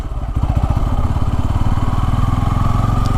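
A Bajaj Pulsar N250 motorcycle engine lugging at very low road speed in a high gear, a loud, close, uneven low thumping pulse with a rough, strained chug throughout.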